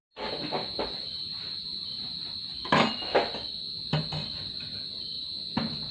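Crickets chirr in one steady, high, unbroken drone outdoors at a rural Isan cooking spot. Occasional dull knocks from food preparation sound beneath it.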